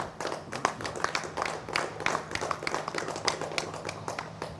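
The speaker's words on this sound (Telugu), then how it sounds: "చప్పట్లు కొట్టండి." An audience at a Sri Chakra consecration ceremony claps hands together, a dense, steady patter of many overlapping claps lasting several seconds with no pauses.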